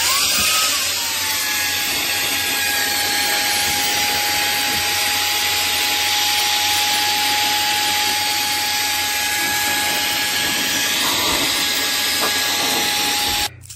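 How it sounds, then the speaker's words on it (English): HOTO compressed air capsule blower running continuously, a loud steady rushing hiss with a faint high whine, sustained for the whole stretch before cutting off at the end. "Get one of these air blowers in."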